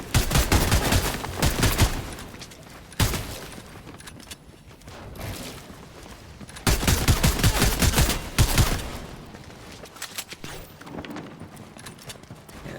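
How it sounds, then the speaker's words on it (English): Bursts of rapid gunfire from a Fortnite match come in two heavy volleys separated by quieter stretches of scattered shots and in-game movement sounds. "Gunfire right where they're at, trying to go for the assault."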